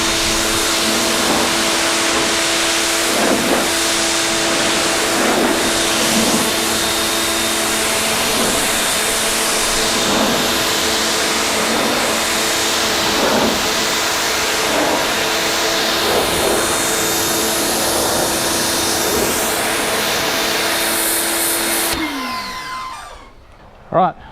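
Pressure washer spraying water along the side of a car, a loud constant hiss and motor drone with faint rhythmic pulsing, ending abruptly as the spray stops, with no talk.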